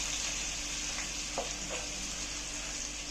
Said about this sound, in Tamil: வெங்காயம் பூண்டு வதங்கிடுச்சு.